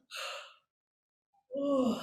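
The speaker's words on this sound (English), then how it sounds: "So we're going to yawn and allow that yawn to open up into the back of the mouth." A deliberate open-mouthed yawn in a voice technique class, two breathy voiced exhalations separated by a silent pause, the second lower and more tonal with a sighing fall.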